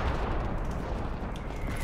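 A short burst of dense gunfire from Call of Duty Cold War, loud and rough, with overlapping shots and booming impacts over about two seconds, no talk.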